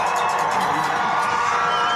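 Dense crowd noise from a high school football playoff semifinal between Chapmanville Regional and Nitro, with steady cheering and shouting that holds at an even level for the full two seconds and no clear peaks.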